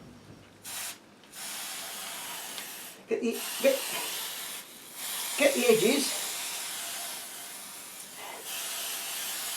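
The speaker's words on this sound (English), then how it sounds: "We're going to start spraying." Spray mount adhesive aerosol can hissing in several sustained bursts, broken by short pauses, close up, with a voice speaking briefly between sprays.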